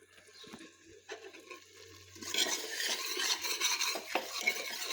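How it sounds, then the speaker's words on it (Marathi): Ground masala paste is stirred and sautéed in a pan, a soft scraping at first that grows into a louder, busier sizzle and clatter of the spoon against the pan in the second half. "आधी घर वाटण आणि ह्यातमध्ये परतायला टाकते एक मिनटं"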